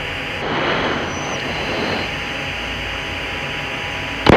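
Steady F-16 Aggressor jet engine roar heard from inside the cockpit during takeoff acceleration with nozzles opening, a broad continuous rush that swells slightly early on and stays loud throughout, ending in a brief sharp click.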